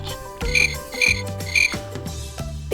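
Cricket chirping in a children's animal story, with three evenly spaced bright, shrill chirps over a low tonal background.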